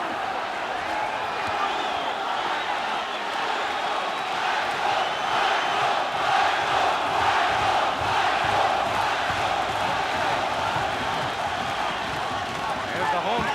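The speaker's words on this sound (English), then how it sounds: "There's the home crowd." A home crowd at an Arizona boxing fight roars in a sustained, dense wall of cheering and shouting that swells slightly midway, while a commentator's voice talks over it.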